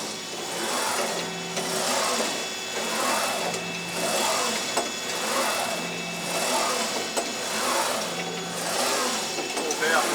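A Sunnen SV-210 vertical honing machine runs with a steady mechanical drone that pulses in a regular stroking rhythm, fairly loud and close, with no one talking.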